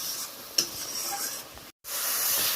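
Ground spice masala of chilli, cumin and coriander powder fries in oil, giving a steady hissing sizzle with light stirring scrapes and a brief silent cut.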